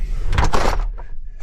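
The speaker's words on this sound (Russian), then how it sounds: "Закрываем панорамную дверь." A camper's panoramic door is pulled shut with a loud sliding rumble and a dull thud, then a quieter mechanical click as it latches.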